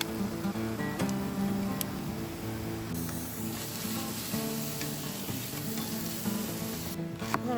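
Garlic, peppers and onions frying in a pan outdoors, a steady loud sizzle with occasional crackles and stirring clatter, continuous throughout without talk.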